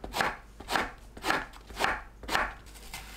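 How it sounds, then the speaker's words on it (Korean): A knife chops roughly through eggplant on a cutting board, cutting it into chunks for a blender; six evenly spaced, crisp thuds land close to the mic, with no voices. "믹서에 갈기 좋게 대충 썰어주세요."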